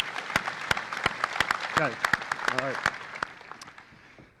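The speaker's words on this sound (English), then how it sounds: "I want to give these guys a round of applause." An audience at a Hadoop tech conference breaks into applause, claps rolling on for a few seconds before fading, while a presenter speaks briefly over it.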